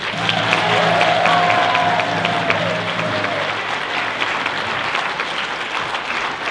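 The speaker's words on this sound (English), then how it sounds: "let's give one more round of applause for our dancers" Audience applause for powwow dancers at a Ute powwow, a dense, steady round of clapping from a crowd that holds strong for about three seconds, then eases off slightly while continuing to the end.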